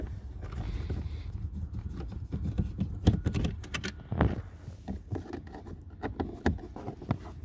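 Hand tools clatter and click against plastic while T20 Torx screws are removed from a VW Tiguan Mk2 glove box, giving close, irregular tapping and scraping with sharp ratchety ticks and small knocks.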